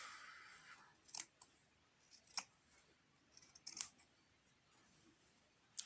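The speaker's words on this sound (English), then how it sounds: "I'll cut off this portion" Scissors snip through a sock in a few separate, crisp cuts with quiet pauses between them, close to the listener and heard alone.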